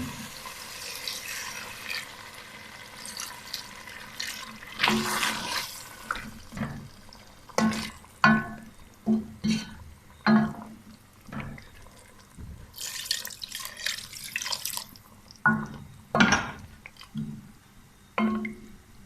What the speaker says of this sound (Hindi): अब हम इसमें डाल देते हैं 2 कप पानी।